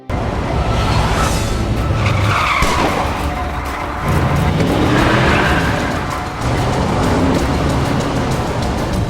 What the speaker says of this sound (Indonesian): bannya malah slip hingga tidak bisa mengejar Dave.